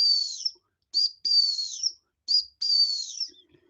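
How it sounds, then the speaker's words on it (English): A hunt whistle blown for dog training, with several shrill, high-pitched blasts of varying length, some short and some drawn out, separated by brief silences. "we were talking about the hunt whistle"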